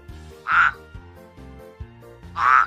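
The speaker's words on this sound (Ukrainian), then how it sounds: "Біля калюжі сиділа велика зелена жаба." Two loud, nasal croaks about two seconds apart stand out over a quiet bed of music, close and distinct.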